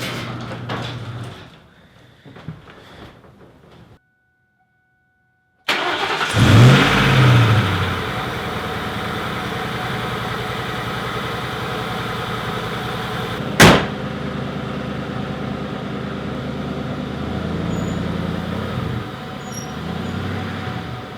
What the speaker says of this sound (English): as you guys saw, the car started.